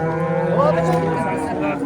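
A cow gives one long, loud, close moo at the Yangiqurgon livestock market in Oqdaryo, with faint background bustle.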